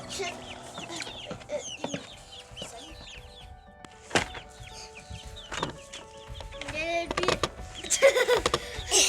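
Hens and a rooster cluck and chatter in a backyard coop, close and overlapping in irregular bursts, with occasional thumps and people talking in the background.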